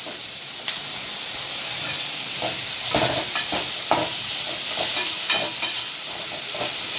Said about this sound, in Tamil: வெங்காயம் வதங்கிடுச்சு தக்காளி போட்டு